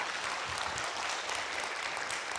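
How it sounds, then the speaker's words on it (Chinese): An audience at a security conference talk claps, a dense, even wash of many hands that holds steady at moderate volume for the whole stretch, with no speech over it. "刚才拍手的好像是暗装这样子"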